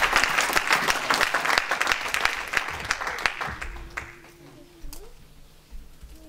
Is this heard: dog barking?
no